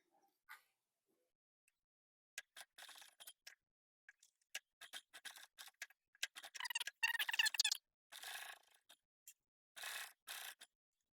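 Sewing machine stitching messenger bag fabric in short start-stop bursts of rapid needle clatter, quiet and close, separated by brief silences, with a longer continuous run near the middle.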